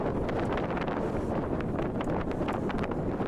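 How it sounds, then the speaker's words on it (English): Strong wind buffets the microphone in rough, continuous gusts on a mountain top along the Uinta Highline Trail, a loud roaring rumble with no voices. "Okay, we're at the top. It's windy."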